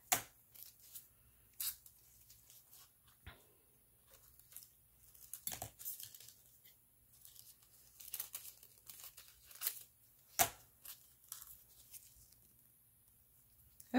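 Sheets of craft foil being cut into sections for rock painting, giving a series of sharp crinkling snips and rustles at uneven intervals, close and fairly quiet, with no talking.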